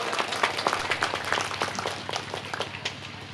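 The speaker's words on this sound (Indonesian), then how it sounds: "Tepuk tangan untuk anak-anak kita." Applause for the children at an Islamic sermon gathering in Tegalpelem, a dense, fairly soft patter of many hands clapping continuously throughout, heard from a moderate distance.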